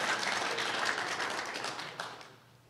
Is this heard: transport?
no